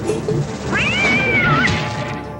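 A cat projectile in a pinball video game gives one loud, rising and falling meow against a busy game background.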